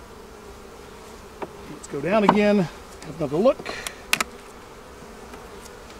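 Honey bees around an open hive during a Demaree split, a faint steady hum under a person talking, with a short louder buzzing burst.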